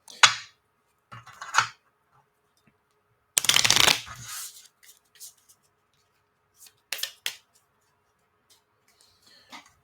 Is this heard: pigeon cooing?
no